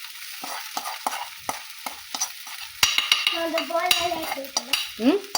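A spoon scrapes sabudana khichdi around an iron pan in repeated short strokes, and a lively sizzle builds beneath the scraping in the second half.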